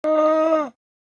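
A single llama call, one steady, nasal, humming groan lasting under a second, clear and close with nothing else around it.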